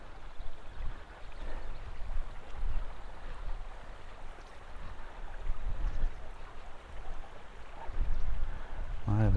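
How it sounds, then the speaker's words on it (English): Steady rushing and burbling of running water fills the scene, a continuous broadband wash with gentle swells, outdoors and moderately loud. "The sound of running water"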